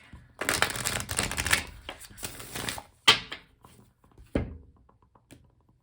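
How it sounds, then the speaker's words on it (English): A deck of cards given a big riffle shuffle, two long close bursts of rapid fluttering, then sharp taps and a thunk as the deck is squared and cut, nearby and with no talking. "Do one more big shuffle here."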